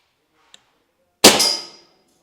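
A single sharp, loud pop of a Crosman 2250 CO2 air rifle firing a pellet, with a brief hissing tail, preceded by a faint tiny click in otherwise quiet surroundings.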